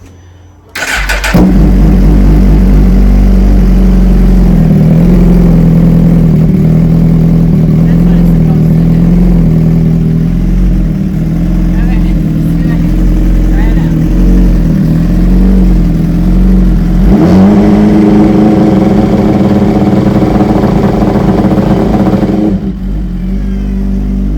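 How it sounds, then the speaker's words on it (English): A 2017 Suzuki GSX-R1000 motorcycle engine cranks and fires, then runs loud and close at a steady idle with a rise in revs partway through before cutting off. "Let's start the bike and see what it does."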